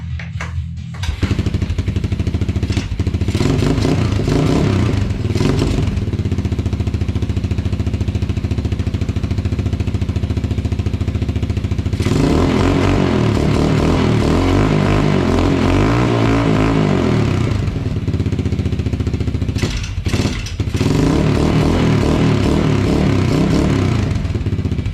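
Yamaha YTM225DX three-wheeler engine cranking, then a loud, steady close idle with a choppy, clattering beat, briefly cutting out and restarting partway through.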